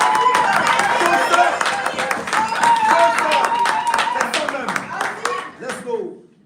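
A church congregation claps and cheers, rhythmic hand claps with voices rising over them, loud and close, tapering off at the end.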